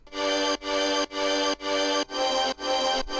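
Processed music with a dense, crackly texture and distortion that cuts out abruptly about every half second, giving a stuttering, worn-record feel.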